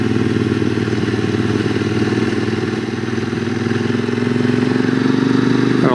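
A QJ SRT600SX motorcycle engine runs steadily at a low, throbbing rumble while riding in the Pyrenees, loud and close, with a slight rise in pitch near the end as it shifts into third gear.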